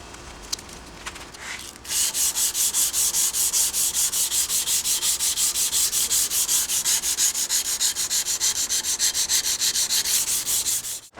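A knife bevel being sanded by hand with 220 grit sandpaper on a hard backing, a steady, loud, rapid back-and-forth scrubbing that starts after a brief quiet moment and runs without a break.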